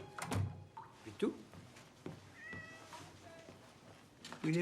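A cat meows faintly a few times indoors, with short rising cries between dull thuds and knocks like a door being moved.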